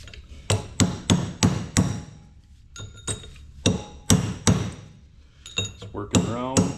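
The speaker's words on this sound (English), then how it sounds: "I, for some reason, have anger issues and need to use a hammer" Hammer blows on a stuck part of a GMC Yukon, about a dozen sharp metallic strikes in uneven bursts, close and loud, with a short voice-like sound near the end.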